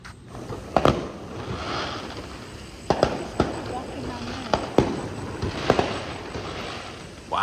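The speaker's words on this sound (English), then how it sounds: "Over here by the golf course, they had some fireworks all the way around." Fireworks going off near a golf course, heard as a scattered series of distant booms and crackles over steady outdoor background noise.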